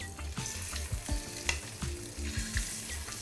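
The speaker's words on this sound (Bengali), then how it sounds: "এবারে নুন হলুদ মাখানো হয়ে গেছে, আমি ডিমটা ভেজে নেব।" An egg coated in salt and turmeric fries in hot oil, giving a steady close sizzle and crackle with a few soft rhythmic knocks from the pan.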